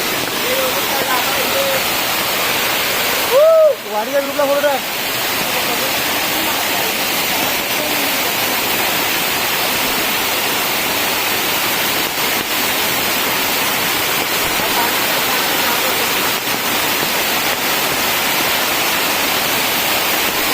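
A constant, full roar of a rain-swollen stream in Konkan fills the whole stretch, with a brief voice near the start.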